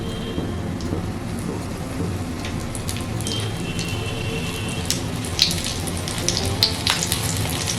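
Tomato pakoras fry in hot oil with a continuous, rain-like crackle and scattered sharper pops, steady and close throughout.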